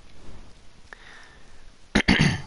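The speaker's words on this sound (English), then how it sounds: "Just clearing my throat." A single throat clearing from a man streaming a racing game, a short harsh burst near the end, close to the microphone, after a quiet stretch with faint background hum.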